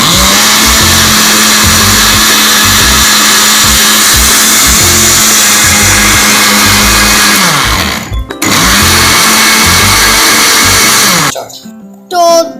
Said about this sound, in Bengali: এখন আমি এখন আবারও ব্লেন্ড করছি বিট লবণ মেশানোর জন্য